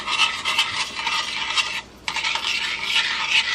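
Pieces of cheese are stirred into heated half and half in a pot for a cheese sauce, giving a steady close rasping scrape of spoon against the pot bottom, briefly pausing once before the stirring resumes.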